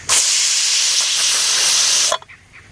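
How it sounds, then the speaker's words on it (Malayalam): A pressure cooker used for making pickle vents its remaining steam in a loud, steady hiss that lasts about two seconds and then cuts off abruptly, followed by faint clatter. "അപ്പം നമുക്ക് ബാക്കി പ്രഷർ കൂടി കളയാം."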